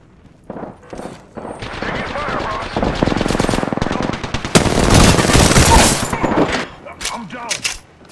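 Bursts of machine-gun fire in Apex Legends, rapid close shots that grow into a long loud volley, then break off into a few scattered single cracks, with a voice talking around the shooting.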